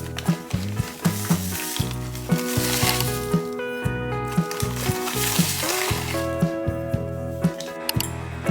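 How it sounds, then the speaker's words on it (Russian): Blini batter frying in two small pans gives a steady, close sizzle with occasional clinks, heard under background music and without any speech. "я возьму еще одну и буду делать на 2 сковородочках мои блины"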